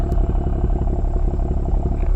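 A 2016 BMW M235i's engine and exhaust running close by, a steady throaty burble with rapid pulsing and no clear rise in revs.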